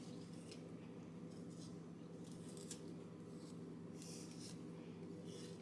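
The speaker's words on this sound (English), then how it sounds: "you can use the back of that bamboo spoon, and it should smooth it out really nicely" A bamboo spoon scrapes and smooths thick Black Forest brownie batter in a pan, giving soft intermittent scraping and squishing sounds over a low steady background hum.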